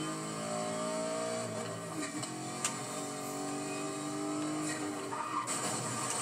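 A car skidding during a police chase in the video game NFS Most Wanted, with a Bentley being driven: engine drone, tyre squeal and screeching skids over a steady game soundtrack.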